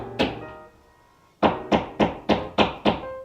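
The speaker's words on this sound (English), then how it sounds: "They are currently putting siding on my house outside, so you might hear some banging." Siding being nailed onto a house outside gives one sharp bang, a pause, then five more evenly spaced thuds, loud and close with no talking.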